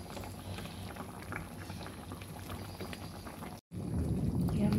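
Water and Sprite simmering with chicken feet adobo in a pot, a steady low bubbling and hiss that drops out briefly, then returns louder and denser near the end.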